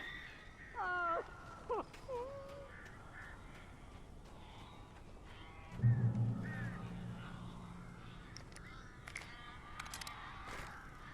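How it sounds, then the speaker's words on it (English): Crows cawing inside a cabin in the Alan Wake video game, a few harsh calls early on with lower rumbling and scattered game sounds after, moderately loud with no talk. "These birds are weird."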